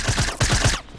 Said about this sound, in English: It sounded like a pistol.